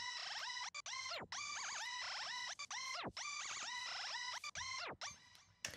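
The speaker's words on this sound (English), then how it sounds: "But once I add in some reverse, some re-trigger, some gate, and some tape stop," A trap beat melody is chopped by Glitch 2 reverse, re-trigger, gate and tape stop effects: stuttering synth notes, abrupt gated cuts and repeated pitch dives that slow to a halt, alone without talk.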